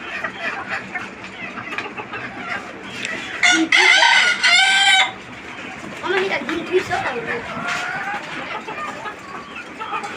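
Desi free-range chickens cluck steadily nearby, and a loud rooster crow rings out midway through, with a person's voice mixed in underneath.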